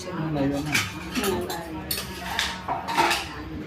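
Metal lid clattering onto a pot of pepper rasam, several close clinks and knocks of cookware, with a voice talking over the clatter.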